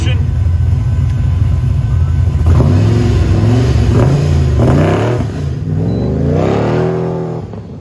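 Race car powered by a supercharged 7.3 liter Godzilla engine with a Tremec transmission, a Fox body, accelerating at a Goodguys event in Des Moines, a loud continuous engine roar rising in pitch as it passes, with an announcer talking over it throughout.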